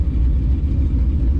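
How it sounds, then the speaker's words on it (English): A deep, throaty exhaust rumble from a straight-piped Gen 2 S550 Ford Mustang, steady and loud up close, with a rough low-end pulse. "straight pipe just sounds so good."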